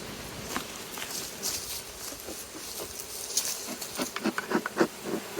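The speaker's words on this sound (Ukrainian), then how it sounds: "У нас зараз багато бджоли в вулику, досить таки потужна сім'я." Honeybees from a strong colony buzz up close at an open hive in a busy, droning hum, with scattered clicks and taps rising in clusters toward the end.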